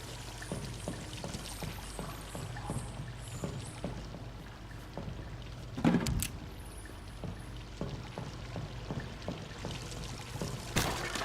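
Water flows and trickles in the Vampyr video game, a continuous splashing pour with small drips and one louder splash midway, steady throughout without speech.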